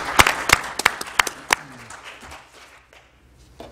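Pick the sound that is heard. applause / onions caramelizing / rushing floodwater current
applause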